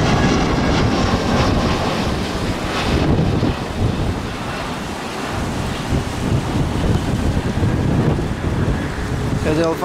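Strong wind at Madeira airport, heard as a loud, continuous gusting rush that buffets the microphone, with a low, rumbling wash that rises and dips but never stops.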